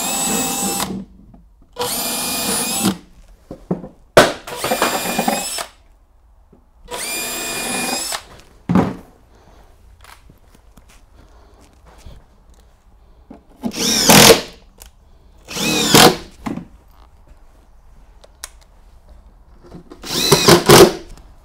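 A power drill drives screws through timber stair risers into support blocks in several loud, close bursts of steady whirring, each lasting one to two seconds, separated by quiet gaps and occasional knocks.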